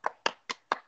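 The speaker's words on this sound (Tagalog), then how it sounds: "Delayed ang palakpak nyo." Four separate hand claps in an even rhythm, close and crisp, with short silent gaps between them and no crowd around them.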